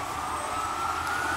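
An emergency vehicle siren on a New York City street, heard from inside a food hall, a steady high wail held faintly and evenly in the distance.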